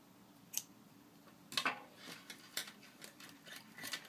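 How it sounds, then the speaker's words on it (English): Several quiet snips and clicks of scissors cutting knitting yarn, irregularly spaced, close and faint against a silent room. "Cut the yarn again, make sure you leave a long enough tail."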